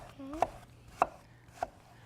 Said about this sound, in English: So again, just chopping them up into small pieces.